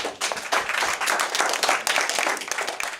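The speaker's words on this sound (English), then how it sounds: "Give her a round of applause." An audience applauds loudly and steadily, a dense wash of many clapping hands that stays close and sustained for a few seconds.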